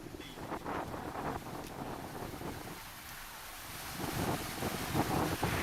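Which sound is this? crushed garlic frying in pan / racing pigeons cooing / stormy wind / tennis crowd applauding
stormy wind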